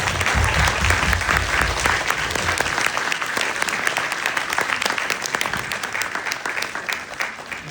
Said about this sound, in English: just want to give another round of applause to this wonderful